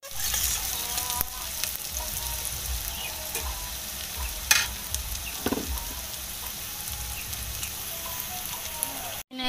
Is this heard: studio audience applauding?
no